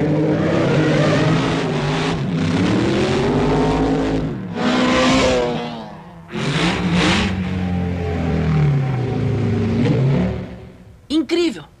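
A cartoon Mach 5 race car on a test run, its engine roaring loud and near with rising and falling revs, brief gaps, and a quick burst at the end.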